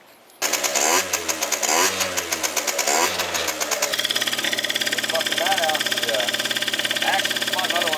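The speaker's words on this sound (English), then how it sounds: "I hear a 2-stroke back there." A Derbi GP1 two-stroke scooter fires up, blips through several sharp revs, then settles into a rapid, crackling, ringing idle close by, with voices in the background.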